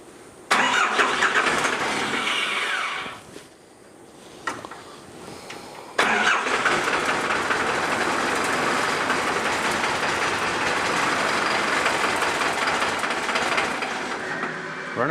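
A Cummins 4BT diesel in a 1968 Bronco cranks on the starter, stalls briefly, then cranks again and catches. It settles into a loud, steady, rough-running idle that stays close up and fills the rest of the clip with no talking.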